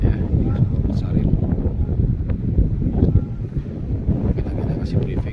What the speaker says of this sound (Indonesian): ini angin sangat kencang